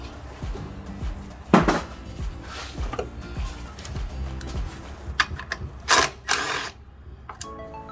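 A hand ratchet undoes a 10mm bolt on the valve cover bracket of a 2009 Ford Fusion engine. It gives bursts of rapid close clicking with metallic taps and clanks in between.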